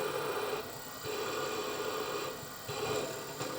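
A steady, gritty grinding whir of a small diamond drill bit biting into a stone bead, dipping slightly in intensity at a couple of points, close up.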